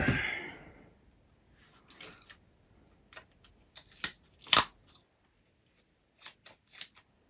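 Material being cut by hand with scissors during work on a Micro Skyhunter RC plane: a few sharp close snips and crisp clicks separated by quiet gaps, following a soft rustle at the start.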